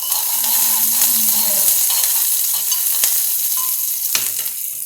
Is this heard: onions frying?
yes